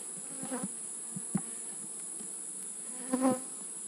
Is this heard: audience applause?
no